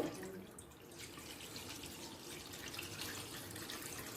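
A little water is poured into a wok sitting on a lit gas stove, making a faint, steady trickling splash that runs briefly and quietly with nobody speaking.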